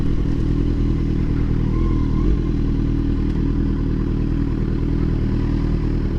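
Kawasaki Z900 superbike engine running steadily at low revs while the rider turns the bike around at the roadside, a loud, close, continuous rumble with a slight rise in the middle.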